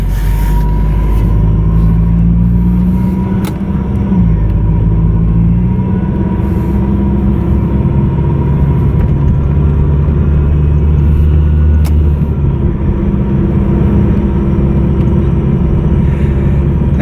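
Toyota MR2 with a transmission shifting problem being driven, a continuous low engine drone and road rumble filling the cabin, with slight shifts in pitch as it pulls along, no talking.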